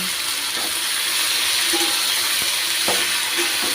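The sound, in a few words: fenugreek leaves being stirred and fried with chili and garlic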